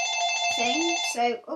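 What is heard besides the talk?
telephone ringing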